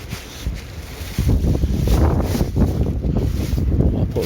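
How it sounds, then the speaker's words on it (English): Strong wind buffeting the microphone at an allotment on a wet, windy day, loud and continuous with a sharp gust surge partway through, no talk. "it's quite windy and wet"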